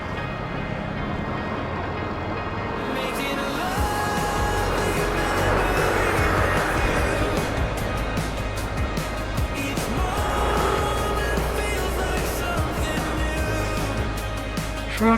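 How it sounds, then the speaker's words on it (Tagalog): Road traffic rumbles past on a ride through Norzagaray, Bulacan: a steady, loud engine and road roar with passing vehicles swelling and fading, and wind noise throughout. "Traffic again."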